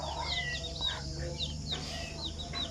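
Chickens and chicks, about 150 young birds, on a small poultry farm in the rainy season; high, repeated peeping and soft clucking over a steady background hum.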